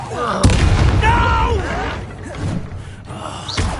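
A Bombarda blasting spell goes off in Hogwarts Legacy with a loud booming burst near the start, followed by shouted combat voices and rumbling battle noise.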